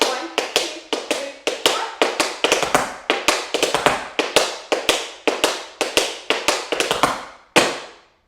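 Tap shoes striking a hard floor in quick clusters of cramp rolls on the left side, crisp sharp taps in steady repeating groups of four, loud and close, with a brief pause before a final hit.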